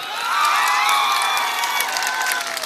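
Crowd cheering and clapping at a Bihar political rally in India, a dense, steady roar of voices and applause with excited shouts rising throughout, loud and close with no speech over it.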